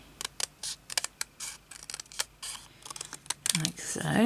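Scissors snip through craft material in a run of short, close, crisp cuts, with a voice coming in near the end.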